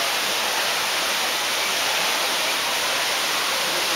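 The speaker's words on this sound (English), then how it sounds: "Pretty good size for the waterfall here." Steady broadband roar of the waterfall at Cedar Falls in Hocking Hills, a continuous rushing wash of falling water with no breaks and no voices.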